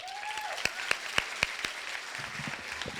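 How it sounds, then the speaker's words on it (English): Audience applause at an eighth-grade moving-up ceremony, a fairly quiet, sparse spread of clapping with a few sharper individual claps standing out nearby. "please join me in giving them another round of applause."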